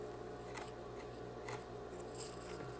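Very faint snips of scissors cutting the straight edge of a fabric scrap for a rag rug, a few quiet crisp cuts over low background noise.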